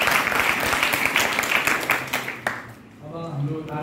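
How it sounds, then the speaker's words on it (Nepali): An audience at a Vedic school honour ceremony gives loud, dense applause for students that fills the first few seconds, then thins out as a voice speaks over the tail. "उहाँहरूलाई फेरि एकदम जोरदार ताली"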